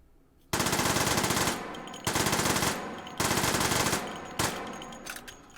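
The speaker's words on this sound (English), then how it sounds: "Just so you can see that I'm only touching the trigger and it's firing 17 bullets." Rapid 17-round bursts from a gun in the VR shooter Hot Dogs, Horseshoes & Hand Grenades, three loud sustained stretches of fast automatic fire with short gaps between, then a brief final shot, close and with no talking.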